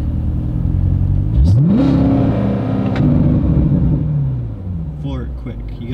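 A car engine revs hard during a launch control start, a deep rumble that sweeps upward in pitch, holds a high roar, then settles back down, with a person talking over it.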